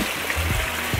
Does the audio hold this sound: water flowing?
yes